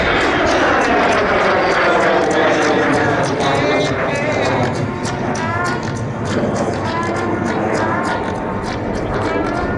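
Lockheed T-33 jet trainer at the 2025 Orléans air show, a loud, steady jet roar with a whining, shifting pitch that fills the whole stretch, with someone talking over it throughout.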